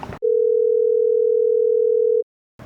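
A steady ringback tone sounds while a phone call to a startup call centre is being connected, one long unbroken beep lasting about two seconds between short bursts of other sound at either end.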